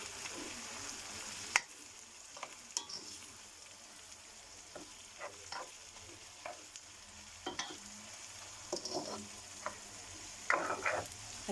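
Chopped green chillies and red chillies are stirred in a frying pan while making egg khagina, with a steady soft sizzle and scattered clicks of the spoon against the pan, alone and fairly quiet.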